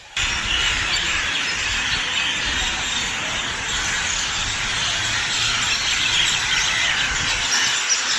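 A dense, continuous wash of high-pitched chirping from many birds at a temple on East Coast Road, Tamil Nadu, steady and fairly loud, like a large flock nearby.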